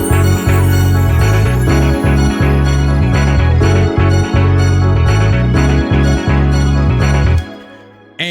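A funk or disco drum pattern drives a dense, bass-heavy groove, with syncopated kicks under a looping melody that plays for about seven seconds before stopping abruptly.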